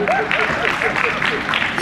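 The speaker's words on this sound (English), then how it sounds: "Give him a round of applause for his bravery" Short burst of audience clapping at a business leadership seminar, steady and fairly loud, with a voice speaking over it throughout.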